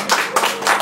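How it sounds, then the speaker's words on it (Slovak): A small audience at a Halloween party gives a brief, thin round of scattered clapping in a few short bursts. "Zatlieskajte potlesk."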